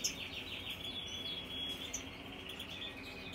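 Goldfinches chirping outdoors, faint high twittering calls scattered over a soft, steady background hiss, fairly distant and with no voices.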